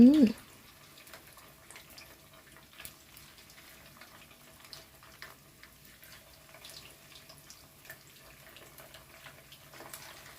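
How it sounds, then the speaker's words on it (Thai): Flour-coated fish pieces, added one at a time, fry in hot oil for a curry-paste stir-fry, giving a steady, soft sizzle with scattered crackles and pops throughout, fairly quiet and close, after a brief voice at the very start. "น้ำมันร้อนได้ที่แล้วก็นำปลาที่เราคลุกแป้งทอดกรอบ ลงไปค่ะลงไปทีละชิ้น"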